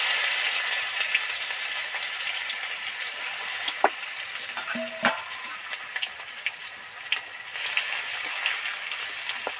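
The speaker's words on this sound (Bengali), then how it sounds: "এবার এর মধ্যে থেতো করা রসুনটা উঠিয়ে দিচ্ছি" Crushed garlic sizzling as it fries in hot oil with dry chili and bay leaf for a Bengali okra chorchori, a steady close crackle with a few sharper pops and a soft clink.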